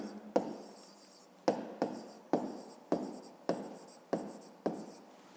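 Handwriting on a board during a fifth-grade math lesson, about eight separate strokes that each start with a sharp attack and then scratch away, with brief gaps between them. Close and fairly clear, with no talking.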